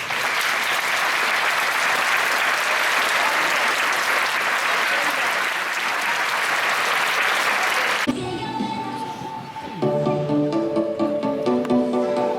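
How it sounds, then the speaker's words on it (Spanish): Loud, dense applause from a crowd at a rural public school festival, sustained for about eight seconds, then cutting off as music with singing begins. "me gustaría pedir para ellos un fuerte aplauso"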